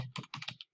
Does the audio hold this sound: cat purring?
no